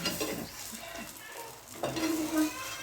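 Dry coconut obbattu cooking in ghee on a pan over a low flame, a soft sizzle under a few close scraping and clinking touches of a spatula against the pan.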